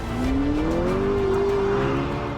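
A car drifting through a fast corner lets out a loud, sustained tyre squeal that slides upward in pitch over a constant engine roar.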